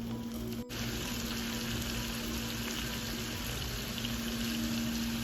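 Mutton chops frying in masala in a pan, a constant dense hiss and sizzle under a faint steady hum, close and even with no talk.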